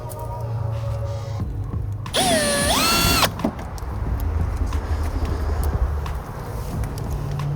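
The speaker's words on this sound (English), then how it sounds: "So we're gonna have to drill it." A power drill drilling into a Toyota Tacoma truck whines in a rising and falling pitch for about a second, over steady engine hum and workshop noise, with ratcheting clicks before and after.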